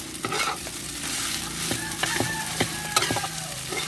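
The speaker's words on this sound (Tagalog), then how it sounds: "Halo-halo lang yan hanggang maluto, hanggang mainit ang kaning bahaw." Leftover cooked rice stirred and fried in a pan, with steady close sizzling and repeated scraping clicks of a utensil against the pan throughout.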